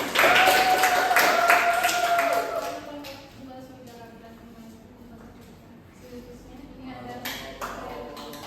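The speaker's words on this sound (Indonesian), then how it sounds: "kasih aplaus dulu untuk kelompok 2" Students in a classroom applaud a presenting group with a brief burst of clapping that fades after a couple of seconds, followed by quieter room sound and some talking.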